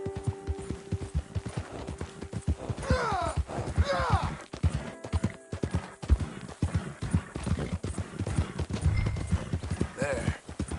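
Horse hooves clip-clop at a walking pace, with a horse snorting and whinnying, while voices talk over the steady footfalls.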